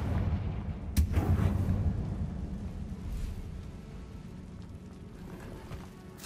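Confringo explosion spell cast in the Hogwarts Legacy video game: a sharp, loud blast about one second in, followed by a rumbling decay that fades under steady low game ambience.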